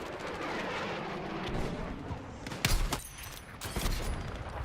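A long-range shotgun blast in a video game, one loud sharp boom over steady game noise, followed by a couple of fainter shots.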